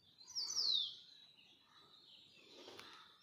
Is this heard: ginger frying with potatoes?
no